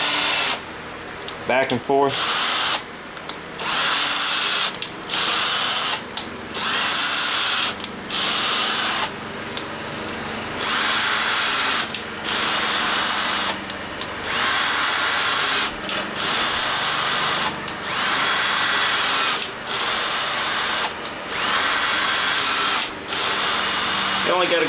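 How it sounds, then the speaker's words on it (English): A cordless drill whirs in repeated bursts, drilling holes in metal, starting and stopping with short pauses between, close up, with someone talking briefly. "Just using a cordless drill."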